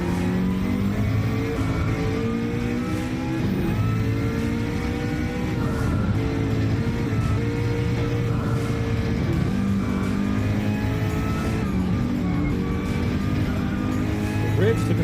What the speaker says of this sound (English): Ridge Raider really revving out that McLaren